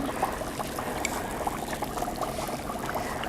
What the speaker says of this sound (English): We have nothing but bubbles going on.